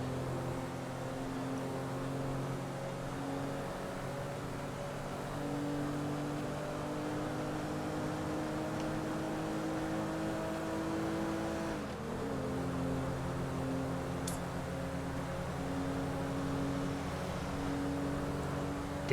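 Gresley car driven in GTA 5, a steady engine drone with sustained harmonic tones, one brief dip and gear change midway, continuous and fairly close throughout.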